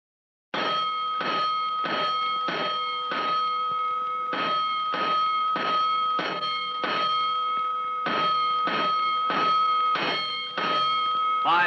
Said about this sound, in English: A 5-alarm fire. 5 bells.